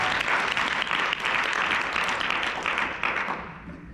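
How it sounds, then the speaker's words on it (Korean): Seminar audience clapping steadily in a room for about four seconds, a dense patter that trails off slightly near the end with no talking over it. "자, 박수 한번 쳐주시면."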